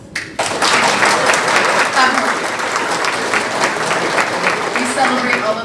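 Audience applause at a spring grant celebration for a community foundation, dense steady clapping from a crowd filling the room after a brief quiet start, loud and sustained.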